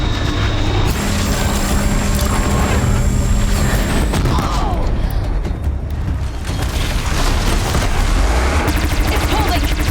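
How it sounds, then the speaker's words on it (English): Disc launchers fire in the Horizon Zero Dawn game amid dense, loud mechanical clanking and ratcheting, with booming shots over a continuous busy battle din. "Disc launchers!"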